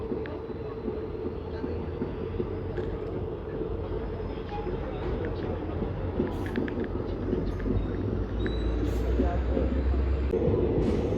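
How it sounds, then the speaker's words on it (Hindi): A passenger train approaching near Patiala, heard from inside a moving train on the Shri Ganganagar–Ambala route: a continuous loud rumble of wheels and carriage noise with faint clicks, building slightly toward the end. "ये सामने से कोई ट्रेन आ रही है, पैसेंजर ट्रेन है कोई"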